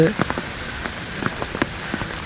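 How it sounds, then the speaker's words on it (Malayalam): Steady rain patters on a surface close by, with scattered heavier drops tapping through the continuous hiss. "മഴ പെയ്യുന്നുണ്ട്"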